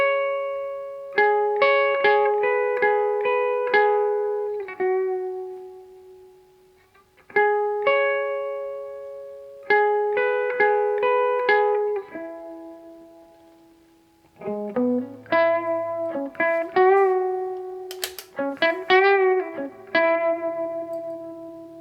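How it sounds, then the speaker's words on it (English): Clean electric guitar chords and picked notes ring through a Fender Tone Master Deluxe Reverb amp, reverb set around 4, each trailing off in a wash of reverb; several strummed phrases with short pauses between them. "if you want it to be more reverb, I think 4 sounds great as well"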